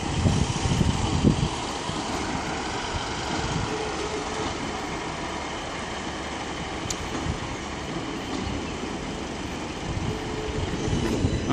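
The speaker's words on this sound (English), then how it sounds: "we got a 6-coach South Western Railway coming in from London Waterloo" A six-coach South Western Railway train from London Waterloo rolls into Exeter St David's station on a Sunday evening, a steady rumble of wheels and motors holding close and loud throughout without a break.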